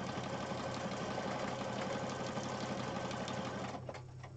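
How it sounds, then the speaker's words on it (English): Sewing machine stitching fabric down in a continuous fast mechanical rattle, close and steady, stopping near the end. "I'm just going to stitch this down"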